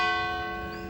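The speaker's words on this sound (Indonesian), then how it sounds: "itu lonceng gereja" A church bell in Spain rings with a single sustained, bright metallic tone, its rich overtones hanging and slowly fading over about a second.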